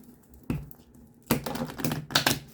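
A deck of tarot cards is shuffled up close, giving a short riffle followed by louder rapid flapping bursts of cards snapping together, with no speech.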